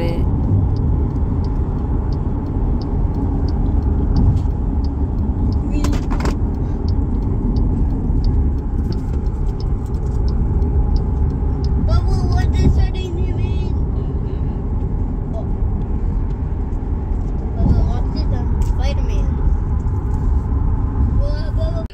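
A car drives through San Antonio on a road trip, giving a steady, loud road rumble and engine drone from inside the cabin, with a few brief knocks and faint murmured voices under the noise.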